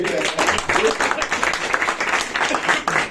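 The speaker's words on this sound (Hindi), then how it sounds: "ताली बजेगी भाई, जोरदार एक बार अभी बजा दो।" An audience at a poetry recital breaks into loud, energetic clapping that holds steady across the moment, with voices mixed in among the applause.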